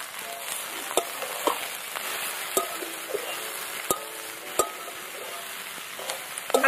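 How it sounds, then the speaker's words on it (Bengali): Water spinach frying in a pan with salt and turmeric while being stirred, a loud close sizzle under repeated sharp clinks and scrapes of the utensil against the pan. "ভালো করে নেড়ে নিলাম।"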